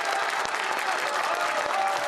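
A crowd at a South Korean election night event applauds Ahn Cheol-soo, a brief burst of dense, loud clapping with voices mixed in.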